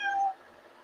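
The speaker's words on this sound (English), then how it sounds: "he just came in and meowed at me and left" A house cat gives one clear, close meow lasting about a third of a second, then quiet room tone follows.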